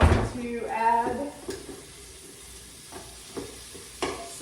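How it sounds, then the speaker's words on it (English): Onion and garlic sautéing in a pot give a soft, steady sizzle, with a voice speaking briefly at the start and a few light utensil knocks after. "I'm gonna saute up that onion and garlic a little bit"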